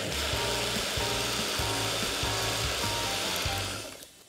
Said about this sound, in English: now we'll turn on the blender and mix it all together until it's all combined and light and fluffy.